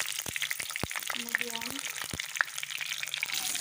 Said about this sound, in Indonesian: Goreng bawang putih yang udah aku belah.